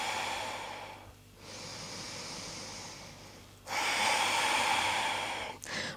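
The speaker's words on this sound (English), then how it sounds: "Take a deep breath in." Deep breathing during a yoga class: a long, close inhale and exhale followed by a second, stronger breath through the nose, quiet and unaccompanied.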